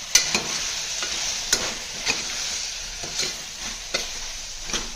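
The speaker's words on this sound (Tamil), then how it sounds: "புளி தண்ணி ஊற்றியாச்சு. நல்லா கொதிக்குது." A steady hiss of tamarind water bubbling hard in a pan, with a spoon knocking against the pot every second or so. No voices.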